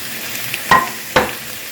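Eggs cooking in a pan, a steady close sizzle broken by two sharp scraping stirs of a utensil against the pan, with no voices.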